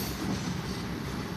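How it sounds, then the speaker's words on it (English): A freight sand train of short two-bay covered hopper cars rolls past in winter at Ottumwa, Iowa, giving a steady, loud rumble of wheels and rail noise with no voices. "it does look like that this is a sand train"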